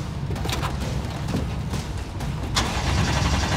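A Dakar Rally car, just shipped to Peru, cranks and catches close by, a noisy burst of engine sound with sharp clattering transients, settling into a rough running note.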